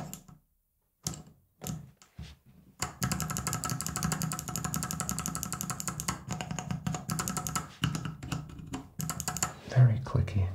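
Clicky Kali Box White mechanical keyboard switches typed in a rapid, steady stream of sharp clicks up close, after a few isolated opening keystrokes, with a brief quiet voice near the end.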